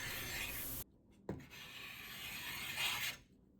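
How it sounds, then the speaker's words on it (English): A carbide scraper rasping old finish off the edge of a wooden dresser, two close, gritty strokes separated by a short pause and a small knock. "when you're scraping off the finish on the edge like that"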